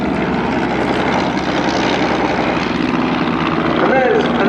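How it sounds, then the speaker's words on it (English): Propeller engines from a replica Fokker triplane and a Royal Aircraft Factory SE-5A drone steadily overhead at an air show, loud and continuous, with a commentator talking throughout. "And there's another Fokker triplane being pursued by a Royal Aircraft Factory SE-5A."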